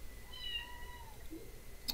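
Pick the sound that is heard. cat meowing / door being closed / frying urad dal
cat meowing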